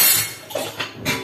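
A few close metallic clanks and a scraping thud as a heavy pressure cooker lid is fitted onto the metal cooker.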